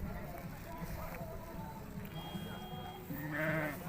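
Sheep bleat at a busy livestock market in Urzhar, with several short cries rising over the shuffle and murmur of the crowd. Voices chatter in the background throughout, and the scene is fairly faint.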